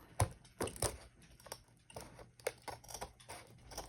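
Scissors make a few crisp snipping cuts through a stiff laminated plastic sheet while cutting out bookmarks, irregular and close, with short pauses between the snips.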